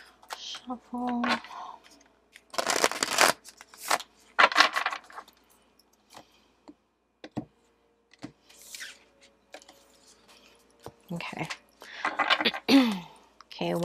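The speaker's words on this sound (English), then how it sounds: "One more" Tarot cards being shuffled during a pick-a-card reading, heard as irregular bursts of riffling and flicking, close by, with quiet stretches between them and faint background sounds.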